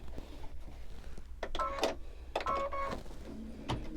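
An embroidery machine stitches fabric down on a mug rug, with intermittent motorized whirs, clicks and short mechanical runs close by over a low hum.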